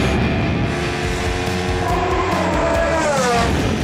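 Engine of Lewis Hamilton's 2019 Mercedes W10 Formula 1 car on track, a loud continuous high-revving hybrid V6 whine with shifting pitch, heard close from onboard.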